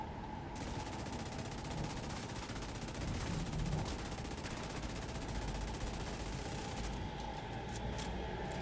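Rapid, sustained pistol gunfire in The Division 2 video game, a dense, continuous stream of shots at steady loudness over game noise for the whole stretch, with no talking.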